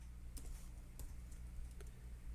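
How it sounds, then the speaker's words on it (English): Faint, quick keystrokes on a computer keyboard while entering C++ code, a few soft clicks over a steady low room hum. "I'm gonna type in cout."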